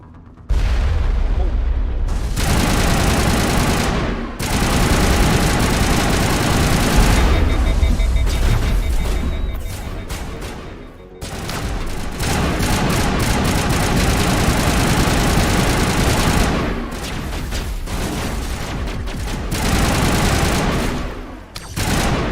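Grenade blasts and gunfire from the video game Mass Effect 1, a dense, loud stretch of booming explosions and rattling shots with brief quieter gaps between bursts, a voice occasionally talking over the chaos.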